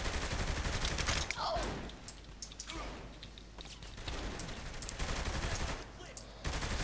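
Sustained bursts of gunfire in the video game Saints Row The Third, rattling steadily at moderate loudness with short pauses, partly under voices talking over the action.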